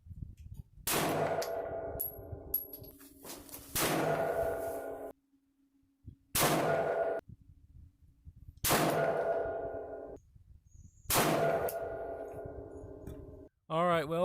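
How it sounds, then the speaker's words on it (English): Five sharp pistol shots fired with iron sights at a metal target, each crack followed by a ringing clang from the steel plate, spaced a couple of seconds apart with quiet gaps and a faint background hum. "now I'll go ahead and shoot that same target with my pistol with iron sights"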